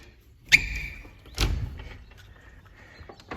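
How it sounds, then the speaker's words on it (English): A door swings open onto a walled garden, giving a sharp knock and latch clatter followed by a second thud and a soft rustling scrape, with no one speaking. "And then we come out of this door"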